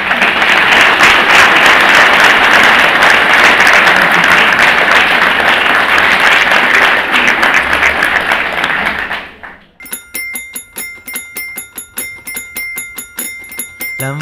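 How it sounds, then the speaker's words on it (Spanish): Audience applause at a participatory budget meeting in El Quisco, a loud sustained crowd clapping for about nine seconds that then cuts off, giving way to a chiming, bell-like tone pattern. "pedirle un fuerte aplauso para ustedes"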